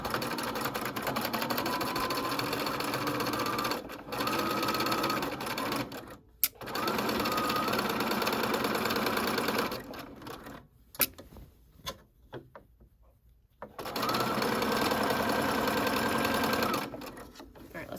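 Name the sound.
sewing machine stitching casing of a wrap dress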